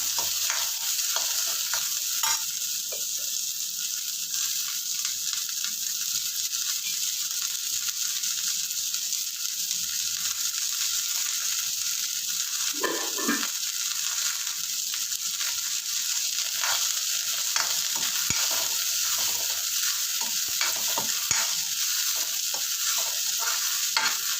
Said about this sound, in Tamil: சின்ன வெங்காயத்தை போட்டுடலாம் நல்லா வதங்கணும்